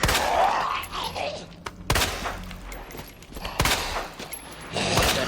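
Sharp gunshots from the survival horror video game Resident Evil 2 boom out in a few spaced blasts with heavy thuds, over eerie in-game ambience and no talk.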